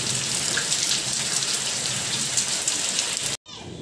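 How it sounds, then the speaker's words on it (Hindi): Heavy rain pours in a steady, close hiss, then cuts off abruptly near the end; no thunder stands out. "बड़े जोरों से बारिश हो रही है, आप सुन रहे हैं गड़गड़ाहट।"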